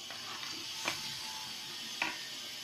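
Fried potatoes go into a sizzling mutton curry in a pan, with a steady low sizzle and two sharp clinks from a spoon or ladle against the pot, close and fairly quiet, no talk.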